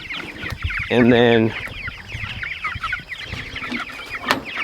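Turkeys cluck and chatter in a coop, with a loud, drawn-out call standing out near the start and a steady run of softer, quick clucks following, while a person speaks briefly.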